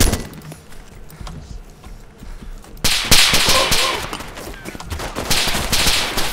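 Heavy gunfire in Overwatch: sparse crackling shots, then a sudden jump into loud, dense rapid fire that keeps rattling near and harsh, with no speech.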